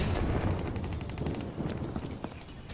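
XPR-50 sniper rifle fire from a first-person shooter game comes in quick repeated cracks over a busy, loud bed of battle noise, with no voices over it.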